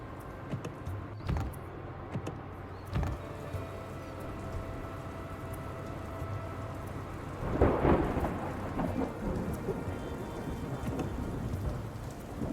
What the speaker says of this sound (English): Luckily, our wipers fully negate the light rain.